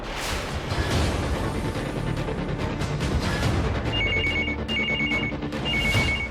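A telephone rings in repeated short electronic trills, three bursts in a row, over a background of steady rumbling noise.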